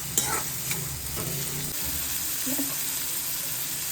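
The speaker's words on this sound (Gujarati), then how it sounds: "ઓનિયન થોડીક રોસ્ટ બ્રાઉન કલરની થઈ જાય" Sliced onions roasting in a hot pan for Mysore dosa, with a steady close sizzle running throughout and a few stirring scrapes near the start.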